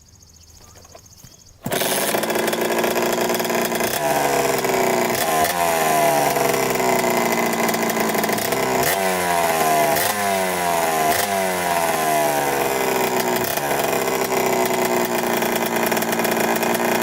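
A dirt bike engine kicks into life after a faint, brief start attempt, then runs loud and steady at a buzzy idle, with a few brief throttle blips rising and falling across the run.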